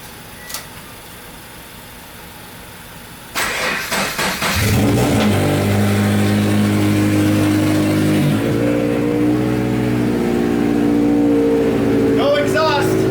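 Toyota FR-S with a turbo engine and no exhaust fitted cranks to life and idles, then holds a loud, raw, droning run that swells at times, with people talking over it near the end.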